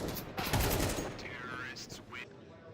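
Rapid pistol shots from Desert Eagles in a Counter-Strike 2 esports match burst out in a quick cluster, then fade under excited caster voices.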